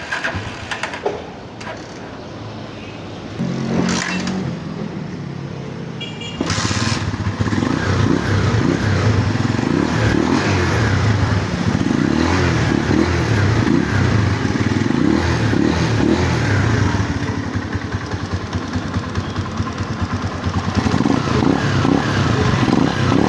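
A motorcycle engine starts up after a tune-up, then settles into a steady, loud, close idle with a continuous rumbling chug and no talk.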